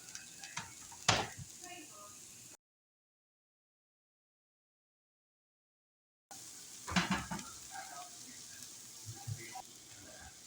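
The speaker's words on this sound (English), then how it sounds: "First, I'm going to saute some onions." Onions sauté in a pan over a high flame with a faint, quiet sizzle, broken by stirring scrapes and a louder clatter. The sound cuts out completely for several seconds partway through, then the soft frying and stirring resume.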